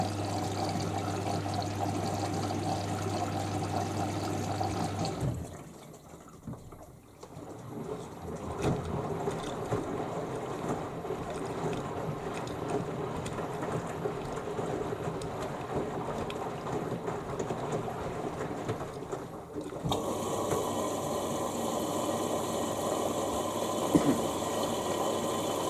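A Beko Inverter WTL64051S washing machine running a cottons 90°C cycle: steady sloshing and pouring water over a low motor hum, with abrupt shifts as the drum changes its action, and no talking.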